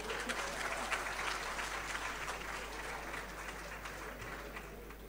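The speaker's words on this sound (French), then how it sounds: "applaudissez" Audience at a comedy show applauds in a dense, sustained burst of clapping at moderate volume, steady throughout, with a low constant hum underneath.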